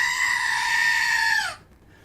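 A goat bleat sound effect: one loud, sustained, wavering bleat lasting about a second and a half, then cutting off abruptly into near silence.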